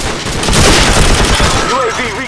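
An M60 machine gun is tap fired in the video game COD4, giving a dense, loud rattle of rapid shots that runs through the whole short moment with booming low end and no pause.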